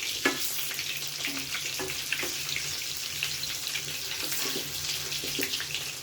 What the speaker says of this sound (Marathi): मी दुसऱ्या बाजूने हे आपण फ्राय करून घेऊया